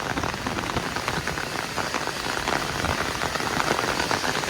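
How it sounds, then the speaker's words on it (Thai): Heavy rain pours down on a home garden, making a dense, steady hiss of drops that stays even throughout, with no voices. "บรรยากาศฝนตกที่บ้านสวนเรานะคะจ้ะ"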